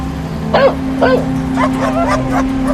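A dog whimpers and yips in short, high, rising cries, repeated several times over a steady low hum, fairly close.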